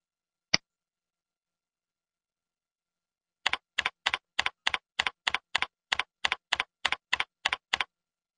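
A domain name is typed on a computer keyboard: one isolated click, a pause of about three seconds, then a close, crisp run of roughly seventeen evenly spaced keystrokes in a quiet room.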